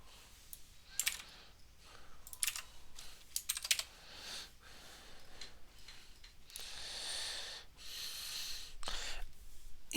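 Computer keyboard keys clatter in quick irregular bursts while someone writes code, the clicks close and moderately loud with short pauses between runs of typing.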